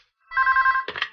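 A telephone rings once in a radio advertisement, a clean trilling electronic ring heard alone against silence, cut off by a short burst of sound at the end.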